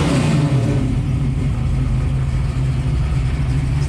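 A 1967 Ford Mustang's engine responding to throttle while driving on a still-cold engine, a steady loud low rumble with slight rises in revs, close and continuous with no talk.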